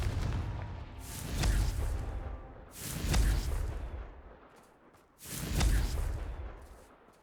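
Explosions from the Confringo fire spell in Hogwarts Legacy, three heavy booming blasts about two seconds apart, each swelling then rumbling away, with no talking over them.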